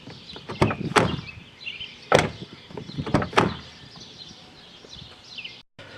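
A Ford Fusion car door with a broken plastic interior handle is worked open from outside: a few sharp clunks and latch clicks, close and fairly loud, then a quiet pause.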